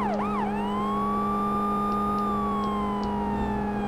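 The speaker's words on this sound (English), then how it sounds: "Can't you hear the sirens?" A police car siren wails steadily and loudly through a chase, its tone sweeping up and down over a constant engine drone, with no talk.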